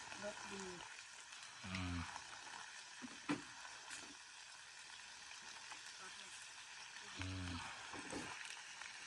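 Beef kua kling stir-frying over an open fire, a steady crackling sizzle with scraping stirs and a sharp clatter, while someone talks intermittently over the cooking.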